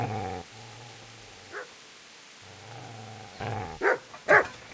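A dog in the Kingdom Come: Deliverance video game growls low in two stretches, then breaks into sharp, loud barks near the end.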